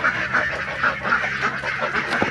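A flock of geese honks in a wet, sloppy straw-bedded pen. Repeated nasal honks and quacky calls overlap in a busy, steady chorus close to the listener.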